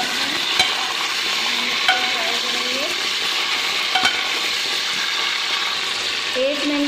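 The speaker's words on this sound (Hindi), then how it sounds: "एक मिनट तक मटन को फ्राई करेंगे।" Mutton frying in a pan with golden brown onions gives a steady, close sizzle, with occasional stirring clinks and faint voices in the background.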